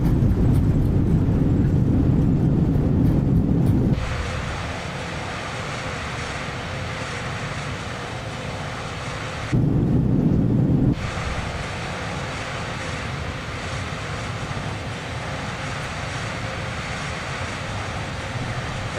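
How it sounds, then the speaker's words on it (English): An airliner rolls out on a long runway in Microsoft Flight Simulator 2020, steady engine roar swelling loudly under reverse thrust, easing, then surging briefly again before settling into a lower rush. "Okay, reverse thrust."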